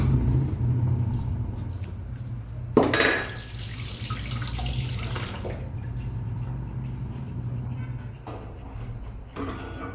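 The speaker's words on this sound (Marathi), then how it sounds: "त्याला स्वच्छ धुवून घ्यायचं आहे आणि पाण्यात टाकायचं आहे" Running tap water splashes steadily over a low rumbling background, with a louder gush in the middle as grated potato is rinsed under the stream.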